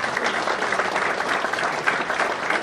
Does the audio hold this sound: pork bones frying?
no